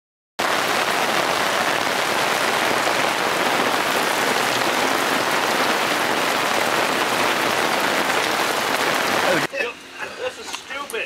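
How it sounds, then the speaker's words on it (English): Steady heavy rain pouring down outdoors on a river trip, a dense continuous hiss that stops abruptly near the end, leaving faint drips and ambient noise. "Rain is stupid, and I hate it."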